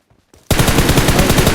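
Gunfire from the mobile battle royale game BGMI (PUBG) bursts in loud and close after a brief near-silence, then rattles on as rapid continuous automatic fire.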